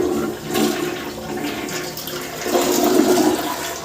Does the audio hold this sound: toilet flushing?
yes